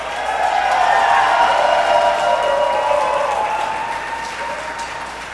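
Sustained crowd applause with some cheering at an outdoor parkour competition, a dense steady wash of clapping that holds strong and slowly fades toward the end.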